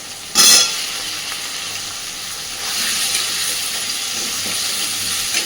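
Cut potatoes hit hot oil in a pan with a sharp burst of sizzling, then settle into a steady frying hiss with occasional stirring scrapes, close and continuous.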